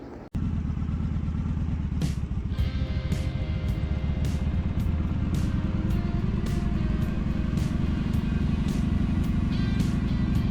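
A motorcycle engine drones steadily on a ride toward Beartooth Pass through open cowboy country, close and loud throughout, with the rumble and brief revs continuing for about ten seconds after a sharp start.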